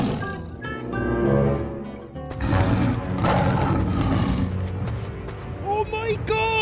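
A cartoon tiger lets out rough, sustained roars that are loud and close, with voices speaking alongside and high squealing calls near the end.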